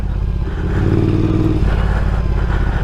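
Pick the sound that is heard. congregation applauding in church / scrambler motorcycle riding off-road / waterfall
scrambler motorcycle riding off-road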